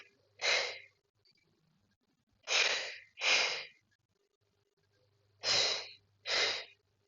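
Deep, slow breaths are drawn in and let out during a stretching exercise, five separate airy breaths close to the mic with quiet pauses between them and no talking.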